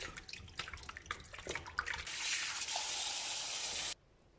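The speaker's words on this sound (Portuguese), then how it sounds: "Eu coloquei meus tomates na pia com água, vou dar uma lavada, trocar essa água e colocar um pouquinho de bicarbonato." Tomatoes being washed by hand in a sink of water, with splashing and sloshing for about two seconds, then a steady close rush of running tap water that cuts off abruptly.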